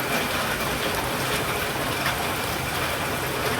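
Rain falls steadily outdoors in a constant, dense hiss that stays even and moderately loud throughout, with no voices over it.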